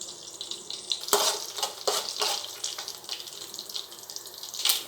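Mustard seeds and cumin crackling in hot melted ghee for vangi bath, sharp bursts of spitting and popping over a steady hiss, close up, with no voices.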